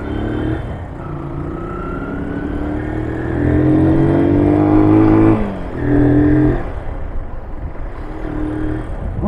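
A Honda XL 185S motorcycle, about thirty years old, is ridden with a steady engine drone that rises in pitch as it accelerates, holds loud, then eases off and revs again, close and continuous.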